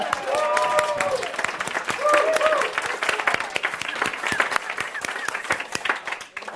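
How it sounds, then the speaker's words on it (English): Close, lively applause from an audience, crisp individual claps with a few voices calling out and laughing early on, then the clapping thins and tapers off near the end. "Let's take a moment and applause."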